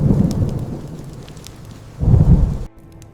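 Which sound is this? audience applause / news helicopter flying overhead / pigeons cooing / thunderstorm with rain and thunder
thunderstorm with rain and thunder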